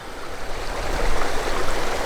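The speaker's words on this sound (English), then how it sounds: "This is a little place on the west side of Margaret River called Kevill Road Waterfall." Water of Kevill Road Waterfall near Margaret River, a stream running over a wide rock bar at low flow, heard as a steady close rushing hiss with no voices.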